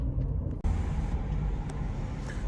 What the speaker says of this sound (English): you just get to hear this amazing exhaust that comes with this car